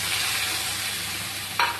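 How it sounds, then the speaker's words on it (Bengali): Spice masala frying in a pan while being stirred, a dense continuous sizzle close to the mic with one brief louder scrape near the end. "এবার এটা নাড়াচাড়া করবো 2 থেকে 3 মিনিট।"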